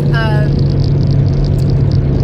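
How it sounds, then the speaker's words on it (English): A motorcycle engine runs close by with a steady low idling rumble that holds for the whole stretch, and a brief voice-like tone sits over it near the start. "Sorry, I'm next to a motorcycle."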